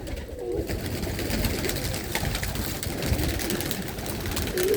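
A large flock of pigeons released outdoors in Ludhiana fills the air with overlapping soft coos and fluttering, a dense continuous murmur close by, with no talking.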